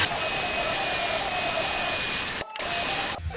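A power drill bores steadily into a broken muffler bolt on a Honda lawn mower, a loud close high-pitched whine that stops briefly twice, with no talk over it.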